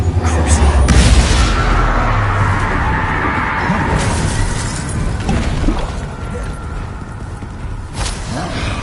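Confringo blasting spell explosions in Hogwarts Legacy, heavy booming blasts with rumbling low end and crackling debris, loud and dense, a few sharper bursts recurring over the span.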